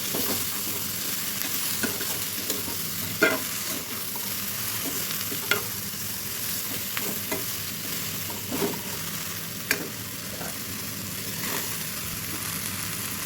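Taro stolons with turmeric, chilli powder and onion being stirred in a frying pan, a steady soft sizzle broken by a handful of sharp scraping clicks from the spoon against the pan, close and alone.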